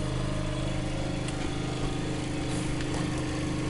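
A homemade single-phase 12-coil generator runs at around 1541 RPM, giving a steady, droning mechanical hum with a constant tone and no change in pitch.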